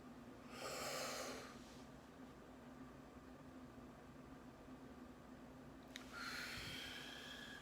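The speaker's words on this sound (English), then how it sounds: "Breathe in, breathe out." Slow, deep breaths in and out, a long inhale followed by a pause and another breath, soft and close with steady background noise.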